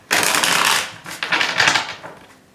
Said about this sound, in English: let me give a quick shuffle